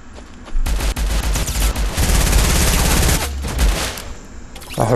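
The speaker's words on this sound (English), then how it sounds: "I heard him shooting the new P90." Rapid bursts of P90 gunfire in Fortnite mobile, loud, dense automatic fire that starts suddenly, rattles continuously for several seconds, then tapers off.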